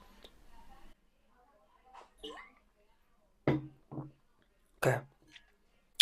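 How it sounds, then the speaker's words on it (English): A man clears his throat a few times, short sharp rasping bursts separated by quiet gaps, close and fairly soft, with faint murmuring before them. "Let me clear my throat here and get a sip of water."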